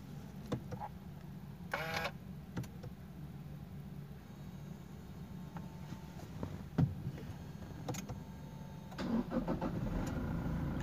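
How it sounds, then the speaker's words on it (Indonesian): A car engine cranking over and catching during a diagnosis of a blank, unresponsive air-conditioning control panel, with a steady low engine rumble running throughout and scattered clicks and knocks on top. "Kita on-kan mesin."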